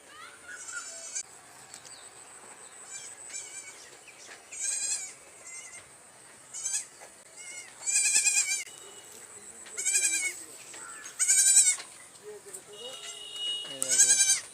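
Goats kept at a village home bleat repeatedly, loud and close, with short wavering calls coming in bursts every second or two, and a voice speaking faintly beneath them.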